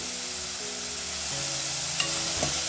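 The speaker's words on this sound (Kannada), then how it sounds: "ನೋಡಿ ಇದನ್ನು ಕೂಡ ಫ್ರೈ ಮಾಡ್ಕೊಳ್ತಾ ಇದ್ದೀನಿ" Curry leaves fry with garlic and tomato in a pan, a steady close sizzle under a faint hum, with a brief utensil tap and one soft scrape near the end, no talking.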